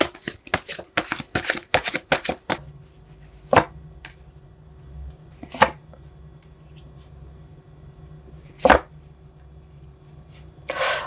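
Symbolon cards are shuffled for a tarot reading, a quick close run of riffling card snaps, then a few separate soft slaps as cards are laid down amid quiet room tone.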